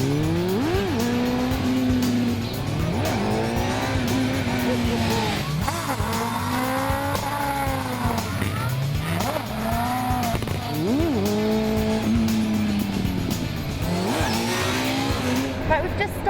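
A motorbike engine revs and pulls away in first gear over and over, rising and falling in pitch through the throttle changes. The sound is close, loud and continuous, with voices talking over it.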